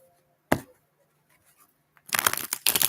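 A deck of tarot cards being shuffled: a single sharp riffle snap, a quiet pause, then a longer run of fluttering card riffles close by in two bursts.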